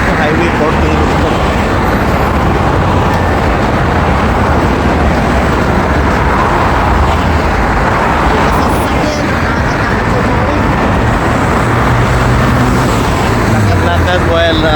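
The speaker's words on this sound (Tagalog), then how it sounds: "Kaya marinig yung mga sasakyan." Traffic on Highway 14, with cars, buses and other vehicles streaming past close by as a continuous loud roadway rumble that swells and eases over about fifteen seconds, with no clear pauses.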